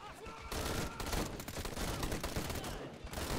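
Gunfire in the war game Call to Arms, a dense, loud fusillade of rapid overlapping shots that starts after a brief quieter moment and keeps going almost without pause.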